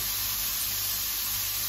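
Carrots and onions frying in a pan on a home stove, a steady, even sizzle and hiss that holds without a break, close and fairly quiet.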